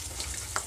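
Mustard seeds, garlic and chillies frying in hot oil for a tempering, a steady close sizzle with a small crackle near the end, no voices.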